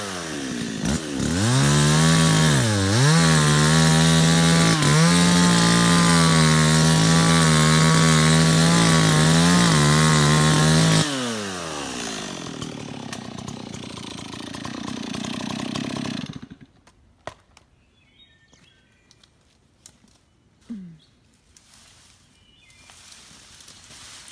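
A chainsaw runs loud and close for about ten seconds, its engine revving up and down, then winds down to a lower idle and cuts out, leaving quiet outdoor background.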